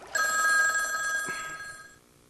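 A telephone bell rings loudly and close, one sustained bright metallic ring that carries for about two seconds before fading, with nothing else heard.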